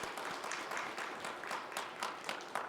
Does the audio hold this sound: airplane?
no